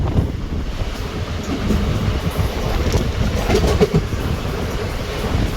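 Chennai SF Express 12604 rolling along railway tracks, a steady broadband rumble of wheels with faint rhythmic clicks over the rails, heard from inside the moving train with no talk.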